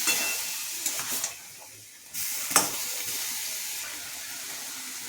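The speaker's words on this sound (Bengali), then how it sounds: "ভালো করে কষিয়ে নেব" Shrimp sautéing in spiced masala in a pan, a hissing sizzle with bursts and lulls as the mixture is stirred, fairly close and fading in and out.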